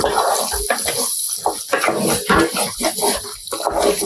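Mutton cooking water pours and splashes into a pot of mutton rassa with a steady gurgling rush, close by, with faint sizzling beneath.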